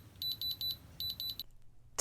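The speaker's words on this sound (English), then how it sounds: "Do you see where it's making that beep and going in the red section? That is an indication of diamonds." A diamond tester on jewelry gives two quick bursts of high, thin electronic beeps, five pulses each in a steady rhythm, fairly faint against a quiet room before a short click.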